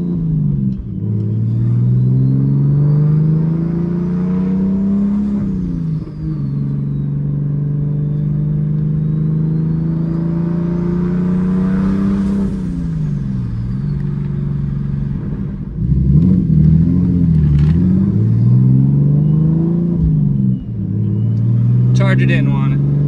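Turbocharged BMW E46 engine running close by, a deep steady idle with rumbling harmonics broken by several revs that climb and fall back, plus a sharper burst near the end.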